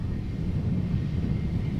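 A SmartLynx airliner in all-white livery at Amsterdam Schiphol Airport produces a steady low engine rumble and roar, continuous and moderately distant, with some wind noise on the microphone.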